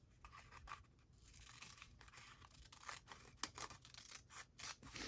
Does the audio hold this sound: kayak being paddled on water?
no